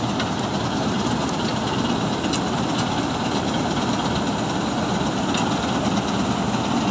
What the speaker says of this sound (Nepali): गहुँ काटिरहेको छ हार्भेस्टरले